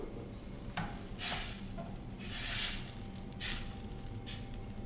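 Garlicky shrimp scampi sauce simmers and bubbles in a pan, a steady close hiss and crackle with bursts of louder sizzling as it is stirred, with no talking.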